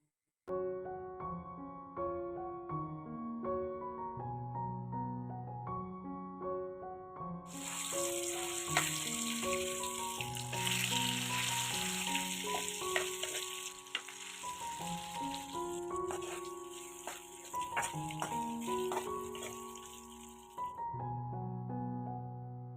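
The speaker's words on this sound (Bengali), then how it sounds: "তো আমার সবটি মাছও ভাজা হয়ে গেছে" Fish frying in a pan over a gas stove in an Assam village kitchen: a steady sizzle rises partway through and runs beneath continuous melodic background music.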